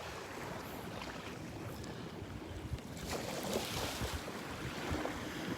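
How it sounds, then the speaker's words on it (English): Gentle small waves washing steadily onto a Florida beach at Delnor-Wiggins, with wind buffeting the microphone and a slight swell in loudness partway through. "listen to the sounds of the little waves rippling up on the beach here"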